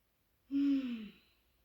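One slow, audible breath during a yoga hip-opening pose: a soft exhale with a slight sigh-like voicing that fades out, surrounded by near silence.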